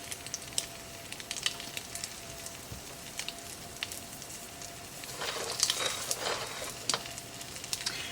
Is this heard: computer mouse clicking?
no